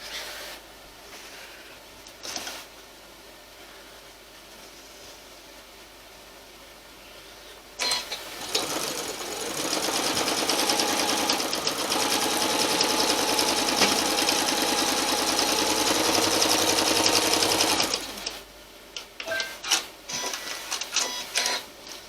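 A sewing machine stitches a quarter-inch seam on a table runner, a steady rapid mechanical whir running for about ten seconds between quieter stretches of fabric handling and short bursts of stitching.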